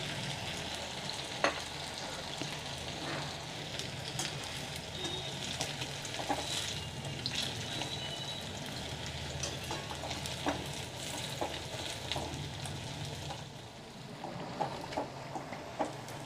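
Idli pieces fry in hot oil with a soft, continuous crackling sizzle that stays fairly quiet and steady, with no talking.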